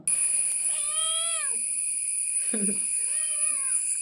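A kitten's high, drawn-out meows, two cries with a pause between them, close and clear with a steady hum behind.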